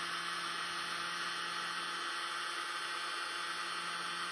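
Small electric air blower running as a steady, even whoosh with a faint hum, close and continuous, used on poured paint with no voice heard.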